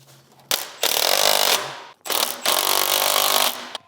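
An impact wrench runs up exhaust bolts on a 2016–2023 third-gen Toyota Tacoma during an AWE Tuning exhaust install, sounding as two loud, close, sustained rattling bursts with a short pause between them.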